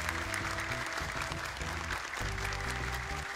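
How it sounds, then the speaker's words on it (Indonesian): Audience applause at a graduation ceremony for young Quran memorizers, a steady wash of many hands clapping that holds for the whole stretch, mixed with background music. "Boleh tepuk tangan, terima kasih kehadirannya."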